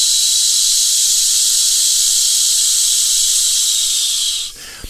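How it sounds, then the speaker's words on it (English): A long, steady breath pushed out through the teeth as a hiss during a choir vocal warm-up, loud and close, held for over four seconds before stopping. "Now blow the breath out using a hissing sound."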